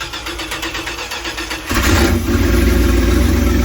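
A turbocharged engine in an abandoned RV, with its exhaust piped out the side, cranks in rapid rhythmic pulses and then catches, settling into a loud, steady, rumbling run.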